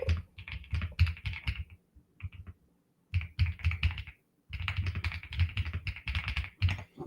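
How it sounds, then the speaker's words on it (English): Rapid bursts of typing on a new computer keyboard, crisp close-up key clacks in quick runs separated by short pauses, with no talking over them. "Also, I got this new keyboard, and it's like the most satisfying thing to type on."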